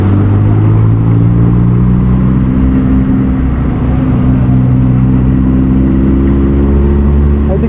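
A loud, powerful superbike engine drones and revs close by at a motorbike show, its pitch rising and falling steadily throughout.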